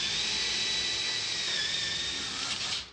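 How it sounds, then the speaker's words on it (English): A power drill boring a hole in a door for a magnet gives a loud, high, steady whine for nearly three seconds, then winds down sharply at the end, with no talk. "drills the hole for the magnet"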